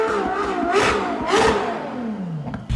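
A Ferrari SF90 supercar revving hard, a loud rising and falling engine roar with several throttle blips close by, ending in a falling whine.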